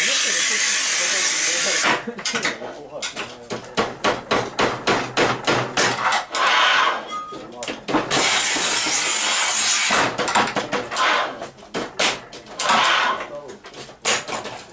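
A Battipav Profi Evo Alu manual tile cutter scores a tile in close, sharp, rapid clicking and scraping strokes that come in bursts, with people talking alongside.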